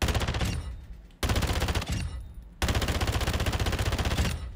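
WA2000 sniper rifle, a Carrack .300, firing in Modern Warfare 2: loud, rapid repeated shots in three sustained bursts separated by brief gaps, with no talking.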